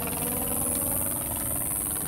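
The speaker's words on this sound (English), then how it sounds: "No! The plane is leaving!" A plane's engine drones as the plane departs an airfield in an Angry Birds Rio plush scene, a steady low mechanical hum with faint vibration, even in level and unbroken throughout.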